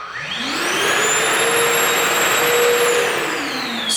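A Milwaukee M18 cordless vacuum switched to level 2 ramps up quickly into a loud, steady rushing roar topped by a bright whine, sustained before easing slightly at the close.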